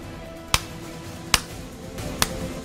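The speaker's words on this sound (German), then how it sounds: "Klatsch einfach mal in die Cam." Three sharp, evenly spaced hand claps aimed at a webcam, each a crisp isolated crack over a quiet room background, with no talking.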